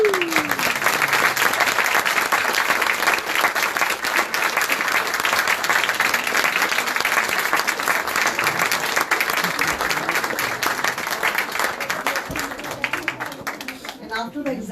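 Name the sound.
audience applause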